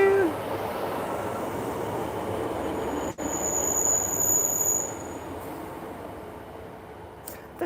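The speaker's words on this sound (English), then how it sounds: "we'll have a train" A train from Newcastle passes a station, its steady rumble joined by a high, sustained wheel squeal that runs for several seconds before fading.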